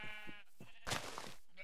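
Sheep bleating in a video game, a few short wavering bleats close up with brief gaps, followed by a louder burst of noisy game sound.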